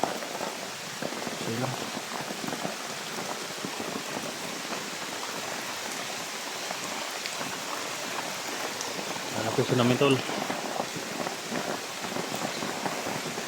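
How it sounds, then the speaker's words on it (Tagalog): Steady rain falls outdoors in the open with no shelter nearby, a dense continuous hiss throughout, while people talk over it. "Ang ulan."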